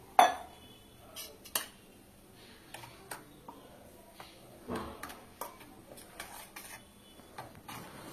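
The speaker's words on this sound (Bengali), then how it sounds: "সব মশলাগুলো একসাথে মিশিয়ে নিচ্ছি" Chilli, cumin, Kashmiri chilli and turmeric powders, salt and ginger-garlic paste mixed together in a bowl, heard as sparse light spoon taps and clinks with soft scraping between them, close and quiet.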